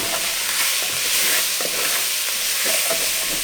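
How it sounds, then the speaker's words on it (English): Vegetables sautéing in oil in a pan, a steady close sizzle with occasional stirring scrapes and no voice over it. "so I'm going to saute them"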